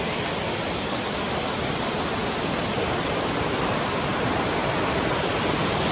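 A river in Konkan during the monsoon rushes and flows steadily with a dense, continuous roar that stays even from start to finish. No voices can be heard.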